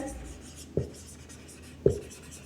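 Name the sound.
pen writing on paper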